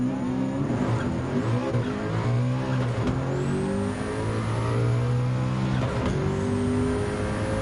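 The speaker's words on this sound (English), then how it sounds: "Next up, Coque Lopez in the BMW McLaren F1 GTR LM 1995." A 1995 BMW McLaren F1 GTR LM race car in Gran Turismo 7 howls loudly and steadily through rising revs, with brief dips at gear changes and a faint tire squeal, alone without talk.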